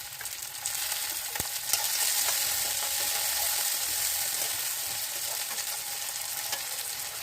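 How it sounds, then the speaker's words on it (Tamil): Onions and tomatoes sautéing in a pan on a low simmer, a steady soft sizzle that holds evenly throughout with a few faint clicks of a utensil. "இது கொஞ்சம் வதங்கட்டும், சிம்மில் வச்சுக்கோங்க."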